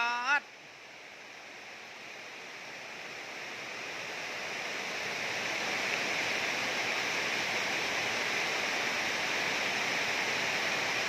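Heavy rain with flowing water, a steady broad wash of rushing noise that grows gradually louder and fuller over several seconds after a brief tonal blip at the start.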